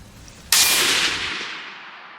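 A single rifle shot cracks out during a stag hunt in New Zealand, a sharp loud blast followed by a decaying outdoor echo tail, with no talk over it.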